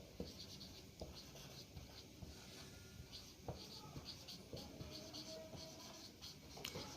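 Quiet scratchy marker or chalk strokes on a board during a set theory lecture, a string of short taps and rubs in uneven rhythm, with soft talk underneath.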